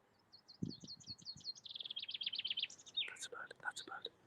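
A small bird sings outdoors in a rural spot, a string of clear repeated chirps and whistled phrases running through the whole stretch, fairly near and distinct, with a few low thumps early on.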